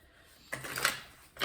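Tarot cards are shuffled by hand in two quick riffling bursts, soft and close, with a brief pause between them.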